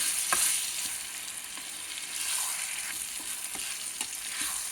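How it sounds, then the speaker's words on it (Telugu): Chopped brinjal for vankaya burji fries in a pan with a steady bright sizzle, broken by a few sharp clicks of stirring, continuous and fairly close with no voices. "తర్వాత ఇప్పుడు చాప్ చేసిన ఈ వంకాయ బుర్జీ వేసుకుంటున్నానండి."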